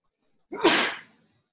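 A single short sneeze close to the mic during a software bug triage meeting, a sharp burst that fades within about half a second, with no other voices over it.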